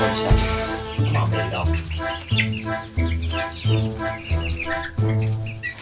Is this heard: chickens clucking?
yes